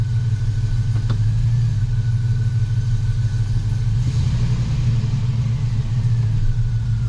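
A Sierra or Silverado truck with a 4L80E automatic transmission, suspected faulty and slow to engage gear, idling with a loud, steady low engine rumble and a faint clunk near the start.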